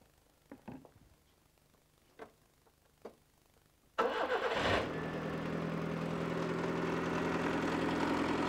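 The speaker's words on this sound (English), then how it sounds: "Now we're going to start the engine." After a few faint clicks, a car engine cranks and fires up after an oil change, then settles into a loud, steady idle that continues to the end.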